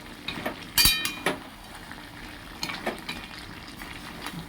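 A spoon stirs bori and vegetable curry frying in a pan, with a soft sizzle underneath, a couple of sharp metallic clinks and scraping strokes, close by.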